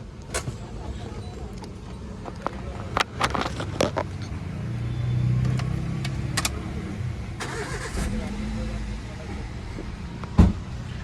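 A Toyota car with a noise problem starts and its engine settles into running, with a mid-pitched hum under sharp clicks and knocks nearby while people talk over it.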